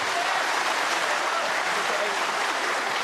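Steady, dense applause from a snooker arena crowd during a World Open semi-final between Ding Junhui and Neil Robertson, a continuous even wash of clapping held at constant loudness throughout.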